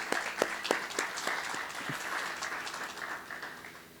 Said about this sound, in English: just a round of applause to them for all the work they put in this year